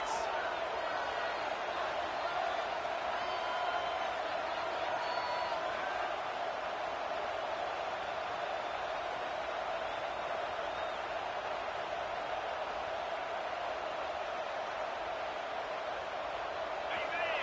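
Stadium crowd noise from the College Football 26 video game, a steady, dense roar of many voices holding at a constant level throughout with no clear peaks.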